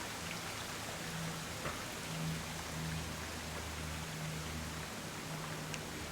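Steady rain falls over a Japanese garden in Kyoto, a soft, even hiss of drops spreading across the whole clip with a faint low hum underneath and no voices.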